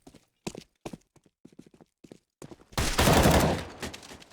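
Tec-9 pistol fire in a Counter-Strike match on the Cobblestone map: sparse sharp shots and footsteps, then a dense, loud burst of rapid gunfire lasting over a second.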